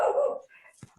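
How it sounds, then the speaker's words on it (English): A dog at home barks loudly at a courier, one sharp close bark that trails into a softer yip, with a brief voice at the end. "My dog's going nuts at probably a courier"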